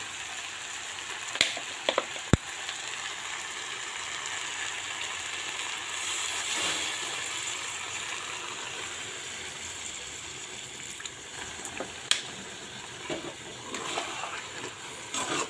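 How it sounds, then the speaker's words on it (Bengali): Water goes into a pan of sizzling kachur lati (taro stolon) vegetable chorchori, bringing a steady watery hiss and bubbling with a few sharp clicks and knocks of utensils, close by and without speech. "এর মধ্যে এখন একটু পরিমাণ মতো জল দিয়ে দেব"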